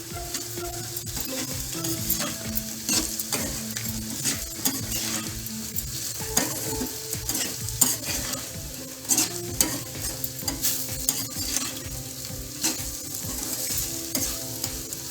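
Bitter gourd (kakarakaya) slices fry in a pan as a spoon keeps stirring them. A constant near sizzle runs under repeated scraping and clinking strokes, with no voices.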